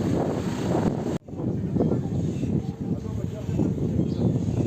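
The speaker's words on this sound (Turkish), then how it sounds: "Çok güzel esiyor." Strong wind roars across the microphone at a hilltop viewing terrace in Geyve, a loud steady rumble with gusts and one brief dropout, with a voice speaking beneath it.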